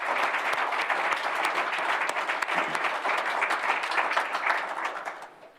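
An audience at a military child of the year recognition ceremony gives a round of applause, with a full, sustained clapping crowd that fades out at the end.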